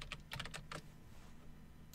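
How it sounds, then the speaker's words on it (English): Bursts of quick key clicks from typing on a computer keyboard, clustered in the first second, then a pause and a few more keystrokes at the end, fairly close against a steady low room hum. "Sorry about the typing there"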